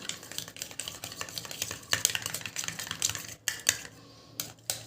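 A small spoon stirs lemon juice into an oil mixture in a little bowl, giving quick irregular clinks and scrapes against the sides in close, uneven bursts, then a short pause and a few final taps.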